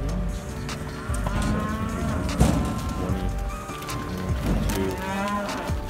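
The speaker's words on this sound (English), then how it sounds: "Jakey Poo got me out of bed and working cattle." Cattle being worked on a farm moo repeatedly, close and loud, with several overlapping drawn-out bellows and an occasional thwack amid the herd noise.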